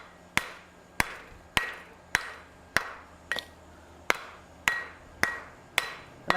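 A wooden mallet pounds a hot steel bowl down over a swage block while forging a maple leaf bowl, about ten sharp, evenly spaced knocks with brief ringing decay, close and loud with no talking.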